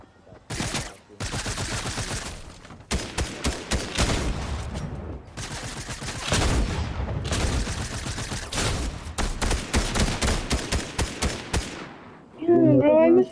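Fortnite gunfire in rapid, dense bursts, loud and close, repeats in long volleys broken by brief gaps, ending in a different electronic game sound.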